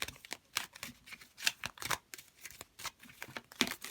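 Tarot card deck being shuffled by hand: soft, irregular riffling and flicking bursts close by, quiet and uneven over several seconds.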